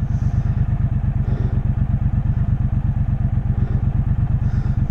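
A Royal Enfield motorcycle engine idles steadily close by, its rapid, even thumping beat running through the whole stretch with no talk over it.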